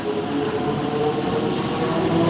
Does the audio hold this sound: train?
yes